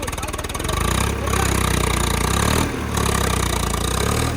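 Tractor engine running in a maize field, a loud, steady diesel chug with a rapid pulsing beat, briefly dipping twice and then returning to a constant idle close by.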